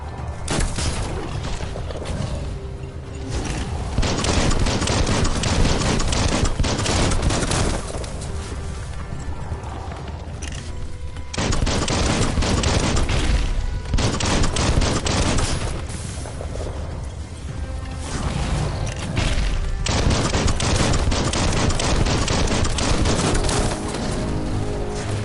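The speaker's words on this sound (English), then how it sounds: "Bullets everywhere." Dense video-game gunfire rattles in long sustained bursts with booming impacts, loud and continuous with brief lulls between volleys.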